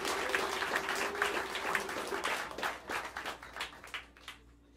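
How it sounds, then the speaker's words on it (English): Jazz club audience at Smalls in New York City giving a round of applause for saxophonist Ted Chubb, a warm, dense clapping that runs steadily and then tapers off into scattered claps. "Ladies and gentlemen, a wonderful, wonderful round of applause."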